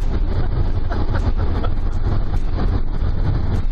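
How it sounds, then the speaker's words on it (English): Steady, loud wind roar buffeting the microphone, with a low rumbling drone throughout, like wind hitting a moving vehicle. "It's windy today."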